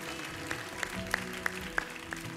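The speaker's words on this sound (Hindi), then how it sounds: "बहुत सारी तालियां इन तमाम लोगों के लिए, बहुत सारी तालियां।" Clapping from the audience of a Ramadan iftar television show, heard as a handful of separate, evenly spaced claps over a low background hum, quiet and somewhat distant.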